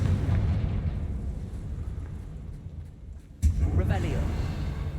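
A Confringo blast spell explodes in the video game Hogwarts Legacy: a single sudden burst partway through, then a lingering rumble over constant low game ambience.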